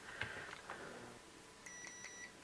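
A few short high beeps from a multimeter in continuity mode while pins on a Philips CD-i board are checked, faint clicks of probe contact first, then brief stuttering tones near the end.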